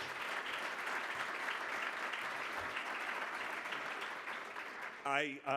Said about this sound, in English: So I think you are all due an enormously warm round of applause